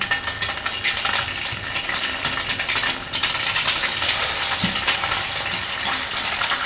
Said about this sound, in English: Pan fry both sides until slightly brown.